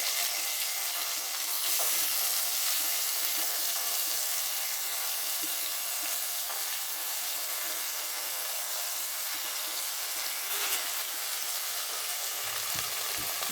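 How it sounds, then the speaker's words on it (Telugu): Curry leaves and pickling mango pieces sizzle steadily in hot oil in a pan for a mango mutton curry, a loud continuous frying hiss with no talking. "దానికి సరిపడా ఆయిల్ పోసాక కరివేపాకు వేసానండి, ఇంకా పచ్చడికాయ వేసాను."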